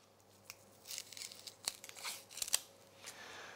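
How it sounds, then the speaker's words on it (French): A thin-bladed paring knife trims the tip off a shallot, giving a few faint, close, crisp crunching and tearing snips spread over a few seconds in an otherwise quiet room. "Je prends tranquillement avec la pointe de mon couteau d'office le haut de l'échalote."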